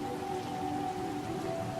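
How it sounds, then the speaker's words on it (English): Rain falls steadily outdoors in Plano, Texas, as an even, dense hiss of drops with no talk, joined by a faint constant hum in the background. "it's raining in Plano,"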